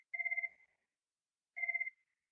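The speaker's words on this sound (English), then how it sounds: "Sorry about that phone." A telephone rings with two electronic trilling bursts, each about half a second long and separated by a pause of about a second, sounding clear and moderately close in a quiet room.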